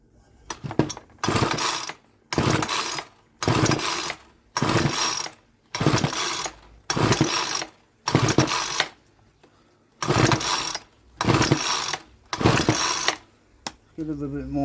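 Ryobi 4-stroke petrol strimmer under repair revs hard in regular bursts, each roughly a second long, separated by brief drops back toward idle, loud and close throughout.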